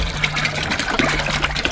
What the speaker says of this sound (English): Put some distilled water in.